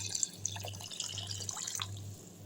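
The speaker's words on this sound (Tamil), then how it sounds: "இப்போ இதில் வந்து தண்ணி ஊற்றிடலாம்." Water is poured over cooked rice in a pot to soak it, a soft, fairly faint splashing trickle with a low steady hum behind it and no talking.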